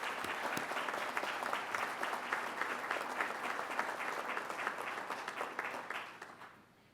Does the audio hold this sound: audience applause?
yes